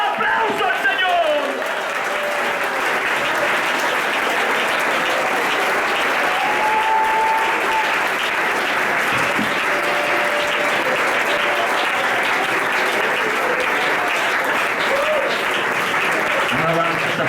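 A church congregation claps loudly and steadily for a long stretch, with the dense applause filling the room. A few voices call out faintly over it.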